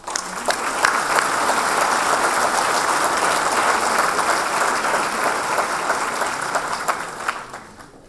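An audience at a New Year's wishes ceremony honouring local development actors bursts into sustained applause, dense clapping building quickly and holding steady for several seconds before tapering off at the end.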